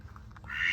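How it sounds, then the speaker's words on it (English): Ducks kept as backyard hens give one short, soft quack rising at the end of a brief moment, close by and otherwise quiet. "little ducky hens"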